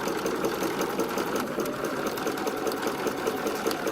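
Sewing machine top stitching a shirt seam with a steady, continuous whir at a constant speed, close and fairly loud, running alone without pauses for about four seconds.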